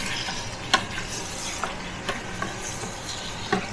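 Chicken and potatoes browning together in a pot, a soft steady sizzle with occasional scraping clicks of a spoon stirring, close and fairly quiet, with no talking.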